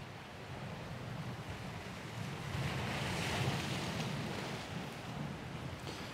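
Surf rolling onto the beach at Tamarijn Resort and Divi Beach, a steady broadband wash swelling slightly in the middle, with wind buffeting the microphone throughout and no voices.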